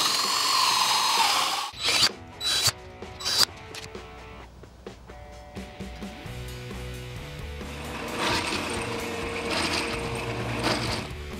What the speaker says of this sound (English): take it to the drill press and cut out those other holes.